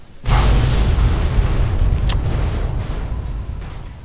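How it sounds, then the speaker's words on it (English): In Fallout 3, a giant explosion hits with a sudden heavy boom. A deep rumble follows and slowly fades over several seconds, with a faint crackle partway through. "And I hear giant explosions."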